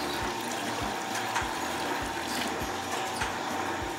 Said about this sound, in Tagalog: Lalagyan na natin ng tubig. Ipon natin ng tubig,